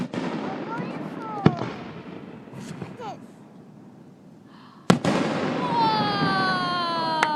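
Fireworks display bursting at Hayden: two sharp, loud booms several seconds apart, each followed by crackling and rumbling trails, with whistling streaks rising late and people chatting and exclaiming throughout.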